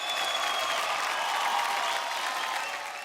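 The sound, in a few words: audience applause for Claudia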